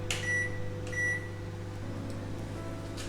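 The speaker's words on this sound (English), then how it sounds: "So I'm going to pop it in my microwave and just do it for about 20 seconds." A microwave oven running with a steady low hum, preceded by a couple of short beeps as it starts.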